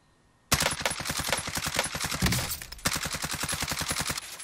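Rapid bursts of automatic gunfire from an Origin 12 in Warzone start abruptly after a brief quiet, rattling steadily with a short pause midway, sharp and close.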